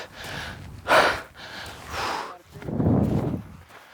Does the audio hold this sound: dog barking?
no